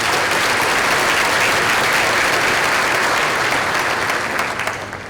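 A large audience at a school district keynote event breaks into sustained, loud applause, dense clapping filling the room evenly before easing slightly at the end.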